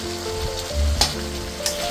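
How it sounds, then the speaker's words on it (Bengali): Potatoes fry with spices in a pan, a steady close sizzle with occasional stirring scrapes and brief louder crackles, with no talk. "আমি আলুটাকে মশলাগুলোর সঙ্গে ভালো করে কষিয়ে নিচ্ছি"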